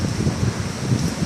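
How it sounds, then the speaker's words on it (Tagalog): Strong wind gusting steadily outdoors, a dense low rumble buffeting the microphone with no voices, brief and fairly loud throughout. "Super hangin."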